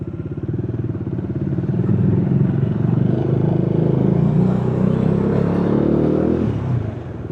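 A motorcycle on a midnight ride accelerates steadily, its engine note climbing and holding loud and close for several seconds before easing off near the end, with no voices.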